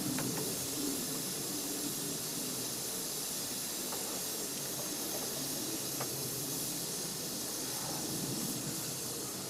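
Steady hiss of steam escaping from a Hawkins pressure cooker as it comes up to pressure, a continuous broad hiss that stays even throughout, with a few faint clicks.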